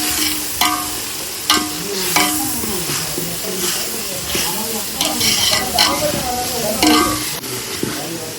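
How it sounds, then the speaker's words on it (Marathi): Onion and tomato tempering for a chicken curry sizzles steadily in a hot pan while a spoon stirs it, with several sharp scraping knocks against the pan along the way. "तर टाकलेला आपण कांदा टोमॅटो फोडणी चालू द्यायचा."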